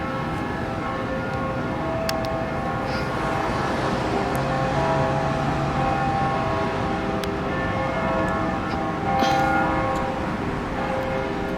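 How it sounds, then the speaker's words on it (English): College or university bell tolling at noon, heard from a distance across an outdoor view, a sustained ringing tone steady under continuous wind and city noise. "The bell's ringing."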